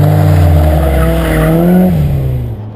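BMW E30 M3 with its S14 engine and individual throttle bodies, heard as a loud, steady close-up engine drone with a rising tone under throttle before easing off near the end.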